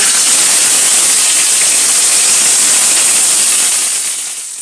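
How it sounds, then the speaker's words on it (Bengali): Paneer pieces fry in hot mustard oil with a loud, continuous sizzling hiss that holds steady before easing slightly at the end. "সর্ষের তেল গরম করে তার মধ্যে পনিরের টুকরোগুলো ভেজে নেব"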